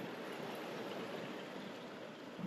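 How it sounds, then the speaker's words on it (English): A Sierra mountain creek with slightly tannin-tinted water and a swimming hole flows steadily, giving a constant soft rushing wash with no other sounds. "That is a wonderful Sierra Creek."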